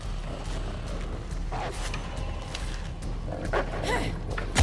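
Dogs barking in the video game Shadow of the Tomb Raider, short yips and barks breaking out now and then over a low rumbling game background.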